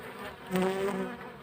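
Honey bees buzz at a hive during a January inspection in Ağva, Istanbul, a soft steady drone rising briefly in the middle, close and alone with no voices.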